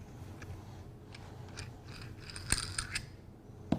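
A stem nut being worked off the threaded stem of a pressure relief valve: a run of small metallic clicks and ratcheting scrapes, close and fairly quiet, with a sharper clink near the end.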